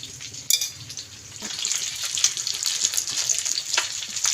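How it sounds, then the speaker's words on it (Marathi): Fish fries in a pan with a steady hiss of hot oil that swells after a sharp clatter near the start, then crackles on at an even level. "तर इथे मस्तपैकी आपले फिश फ्राय होतात"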